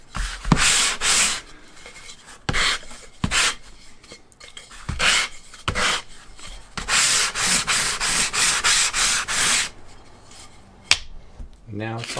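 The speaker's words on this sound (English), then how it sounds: "finding any little ridges left over, giving it a sanding" Hand sanding on CNC-cut wooden kitchen tray parts, smoothing away leftover ridges: bursts of rough scratchy rubbing, some short and some long, with a near continuous stretch of steady strokes in the middle and a few quiet pauses.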